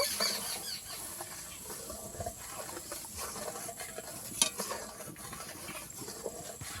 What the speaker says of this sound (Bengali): অনবরত অনবরত নেড়ে চেড়ে একটু দুধটা ঘন করে নেব